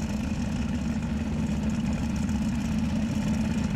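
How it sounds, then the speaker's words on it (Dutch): Steady rumbling of a turbocharged drag car engine at a test and tune event, a low continuous idle-like drone with no talk over it. "Dan moeten die turbo's harder gaan draaien nog."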